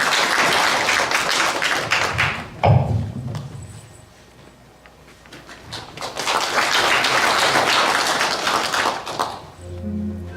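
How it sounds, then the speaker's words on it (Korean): Sustained applause from an audience at a Korean memorial poetry event, broad and steady, fading briefly in the middle before swelling again, with a few thumps near the end. "큰 박수로 환영해 주시기 바랍니다."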